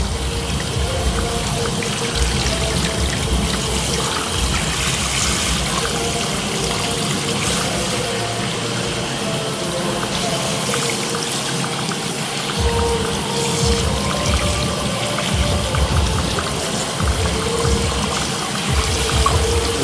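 Warm shower water runs steadily for the whole stretch, a dense continuous hiss and splatter with slight shifts in flow and no voices.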